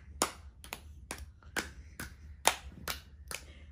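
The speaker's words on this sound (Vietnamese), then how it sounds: "Thôi vỗ tay đi." Family members clap their hands in the middle of the night at home, eight sharp claps in an irregular rhythm, close and fairly quiet, with a low hum underneath and no talking.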